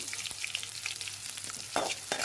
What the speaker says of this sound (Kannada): ನೋಡ್ರಿ ಇದು ಉಳ್ಳಾಗಡ್ಡಿ ಎಣ್ಣೆ ಒಳಗೆ ಫ್ರೈ ಆಗಲಿ